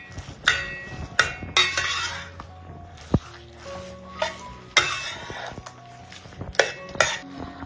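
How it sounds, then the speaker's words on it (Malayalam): Ground fenugreek paste fries in ghee as a metal spoon stirs and scrapes the pan, sharp clinks and scrapes recurring irregularly over a soft sizzle. "അപ്പൊ 1 മിനിറ്റെങ്കിലും ഇതുപോലെ ഒന്ന് നെയ്യിലിട്ടിട്ട് ഉലുവ അരച്ചത് ഇതുപോലെ ഒന്ന് ഇളക്കി കൊടുക്കാം."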